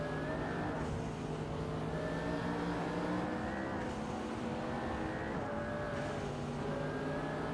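Hypercars racing around Spa in a racing video game, a continuous layered engine drone with several cars' tones rising and falling as they accelerate and shift, steady and fairly loud with no talk.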